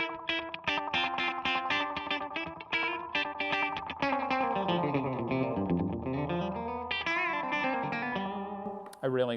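Electric guitar played through a slapback effect pedal, a quick repeat trailing each note, in busy single-note riffs followed by bends and slides, fairly close and continuous with no talking.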